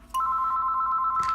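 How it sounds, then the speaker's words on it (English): A mobile phone rings indoors with a steady, fairly loud electronic tone lasting about a second. "Excuse my phone."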